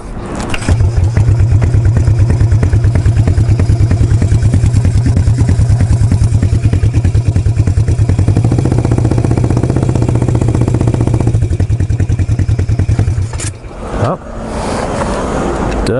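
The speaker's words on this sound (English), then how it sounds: "You guys are now knowing that the bike is running, and it's running okay." A freshly revived motorcycle runs steadily throughout, its engine a loud, close drone as it is ridden around the block, with the pitch shifting around midway and a brief dip and clatter near the end.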